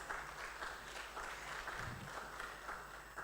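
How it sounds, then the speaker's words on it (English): Conference audience applause, faint and distant, a soft continuous patter of many hands with little variation. "Let's give him a round of applause."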